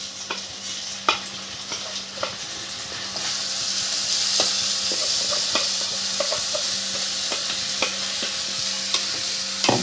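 Rice frying in local ghee while being stirred, a broad steady sizzle that swells after a few seconds, with light scraping and clinks of the spoon against the pot; no talking.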